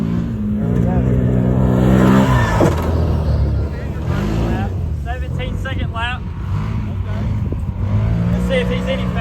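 An off-road vehicle at a mud-slinging off-road track runs hard around a short lap, its engine droning and revving loudly throughout, with people talking and cheering over it.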